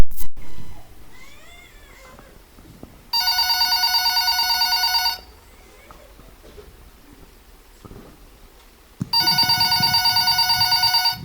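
An electronic telephone ringtone sounds loud and close in two separate bursts of about two seconds each, with quiet room noise and a few brief high chirps between them.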